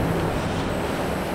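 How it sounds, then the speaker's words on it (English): A train rumbles past close by in Dallas, Texas, a dense, continuous roar of rolling wheels that holds steady and loud throughout, with no voices. "I hear a train."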